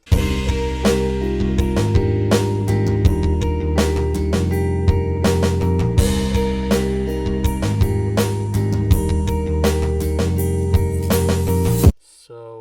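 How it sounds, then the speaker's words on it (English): A hyperpop beat plays acoustic drums with acoustic bass, punchy regularly spaced hits over a sustained low bass line, loud and continuous until it cuts off abruptly near the end. "So the acoustic drums all along with the acoustic bass sound like this."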